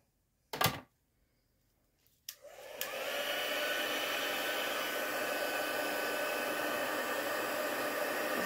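A heat embossing tool for card making switches on with a couple of clicks, then blows a steady, loud hiss of hot air that continues without a break to the end.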